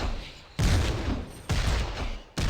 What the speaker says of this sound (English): More shooting, less running.